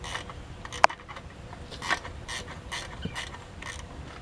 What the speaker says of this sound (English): I'm gonna take my wrench and put on the loosening position and go ahead and loosen it up